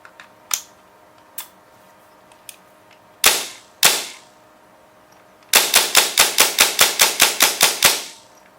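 An airsoft M4 rifle fires test shots, first a few scattered single pops and two louder sharp reports, then a rapid burst of about a dozen crisp, evenly spaced shots, close with no talk.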